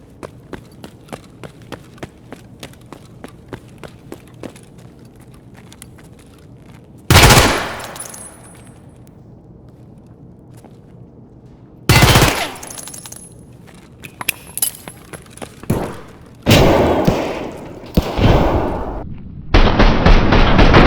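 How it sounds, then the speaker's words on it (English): Submachine gun fire in Escape From Tarkov: a fast run of rapid clicks and shots at first, then several loud, sharp bursts of automatic fire separated by quieter stretches, each burst cutting off abruptly. "This small tribute for all those beautiful SMGs"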